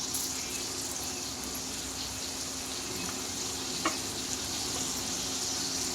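A soft, continuous sizzle of onion and tomato frying in a pan, steady and close, with a faint clink partway through and no talking.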